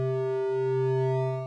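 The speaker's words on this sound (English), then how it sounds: "This is a sine wave." A pure sine wave tone from a VCV Rack modular synthesis oscillator, a single steady, sustained pitch heard alone at an even level with a slight dip midway.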